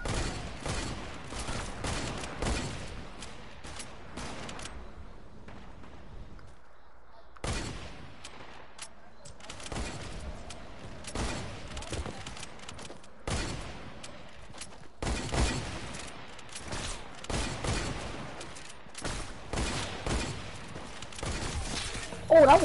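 Gunfire rattles through a shooter video game match in repeated bursts and single shots, loud and dense with a brief pause midway, and a player's voice speaks at moments.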